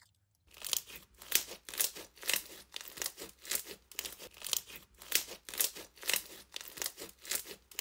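A borax-free foaming slime toy is squeezed over and over in an even rhythm. Each squeeze gives a close, soft crackling pop, with no talking.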